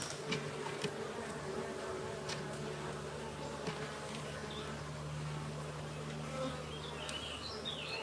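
A honey bee swarm drones in a steady, dense buzz throughout, with individual bees passing close now and then over the continuous hum.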